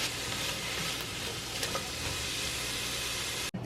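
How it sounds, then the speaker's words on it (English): Onions fry in oil in a pan with a steady, close, dense sizzle throughout and no voices. "I have some oil in my pan, and I am going to cook the onions until they start to get soft"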